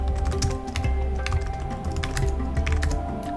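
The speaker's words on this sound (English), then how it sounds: "I'm making heavy use of the tab key" Steady, close typing of terminal commands on a computer keyboard while setting up a Raspberry Pi 4 server, with rapid clustered key taps and brief pauses, over a constant low hum and with no voices.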